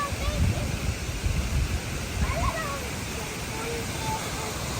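Tinuy-an waterfall roars as a steady, close broadband rush of falling water, with brief voices and exclamations heard over it.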